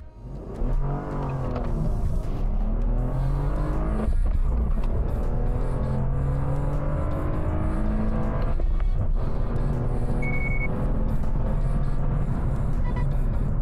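A BMW E46 with its DISA flap removed launches hard from a standstill to 100 km/h, the engine howling up through the revs, briefly dipping at each gear change before climbing again, loud and close throughout.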